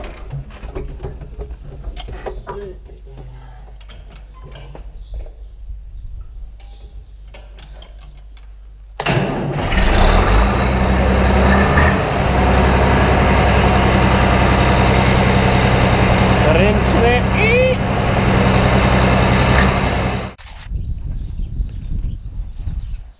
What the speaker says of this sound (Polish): Ta, ciągnik pracuje.